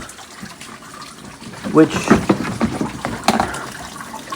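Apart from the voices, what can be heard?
water flowing in a pond system driven by pumps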